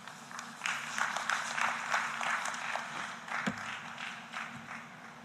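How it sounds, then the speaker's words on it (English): At an East African petroleum conference, the audience breaks into applause after a speaker, a moderate patter of many hands that swells, holds, then thins into scattered claps. "Let's give her another applause."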